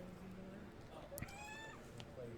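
A new kitten meows once, briefly and at a distance, partway through a stretch of indoor room noise, with faint sounds of handling nearby.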